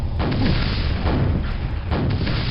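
Heavy booming rocket blasts in Quake, a deep sustained rumble with a few thudding impacts, loud and close, with no talk over them.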